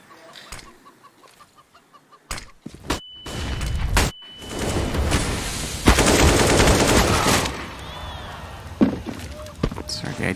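Gunfire and grenade blasts in a competitive Counter-Strike match between pro teams at a DreamHack Masters semifinal, sharp shots and bursts layered under fast, continuous commentary voices.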